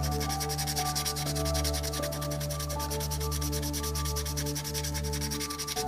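Coarse woodworking sponge sandpaper, around 400 to 600 grit, rubs back and forth over small parts of a 1/48 scale F-4E Phantom II model, a steady close scratchy rasp with a fast regular rhythm and no voices.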